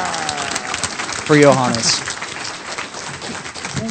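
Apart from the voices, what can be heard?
audience round of applause for Johannes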